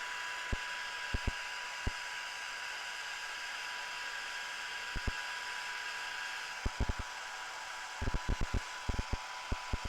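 A heat tool blows a steady, faint whooshing hum while drying paint on craft pumpkins, with scattered light clicks and taps throughout and no talking.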